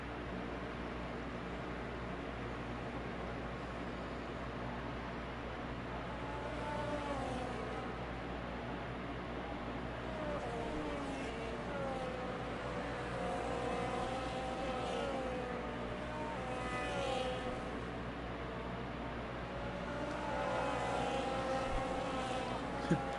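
Race cars rumble steadily through a formation lap at Singapore in a racing video game, their engines droning continuously at a moderate level, with no talk over them.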